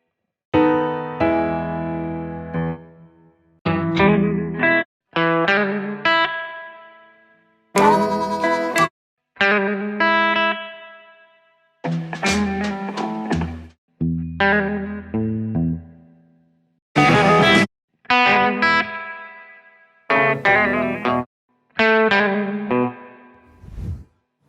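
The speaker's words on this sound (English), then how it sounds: "The two notes are alternating in order to produce a majorist third sound." Electric guitar with effects such as distortion and chorus plays blues phrases that alternate between two notes for a majorish-third sound, in short separated bursts with bends, clear and upfront with pauses between phrases.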